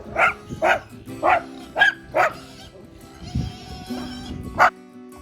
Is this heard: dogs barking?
yes